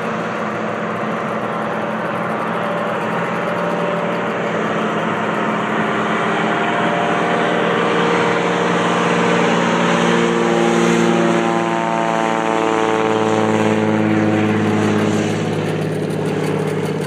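A de Havilland Beaver seaplane takes off from a bay, its propeller engine droning loudly and steadily, then rising in pitch as it powers up across the water.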